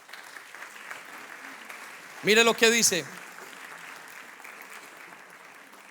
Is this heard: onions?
no